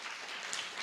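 A church congregation applauding during a sermon, producing a brief, soft wash of clapping at a distance.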